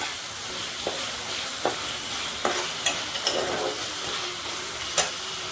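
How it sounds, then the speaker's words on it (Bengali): Spice paste for moong dal papaya ghonto frying in a pan gives a steady, close sizzle, broken by a few sharp spatula scrapes and taps at irregular intervals. "ভালোভাবে কষতে থাক"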